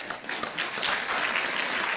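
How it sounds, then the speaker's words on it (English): Audience applause at a college campus debate, a steady wash of clapping from a crowd heard moderately far off, continuing throughout at an even level. "so we can cut the applause for now until we finish the conversation."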